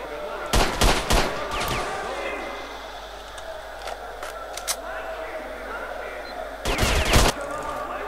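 Gunfire in the video game S.T.A.L.K.E.R.: Shadow of Chernobyl, with a quick burst of loud shots near the start and another burst about six seconds later, set over low background game noise.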